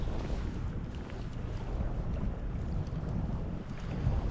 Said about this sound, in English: That wind is cold coming off that lake.